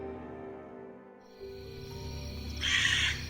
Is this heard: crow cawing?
yes